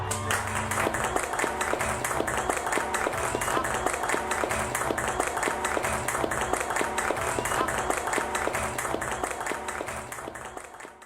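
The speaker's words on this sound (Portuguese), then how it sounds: "Começamos com um gesto. O nosso aplauso." A crowd applauding teachers, with steady dense clapping that holds strong for about ten seconds, then fades out at the end.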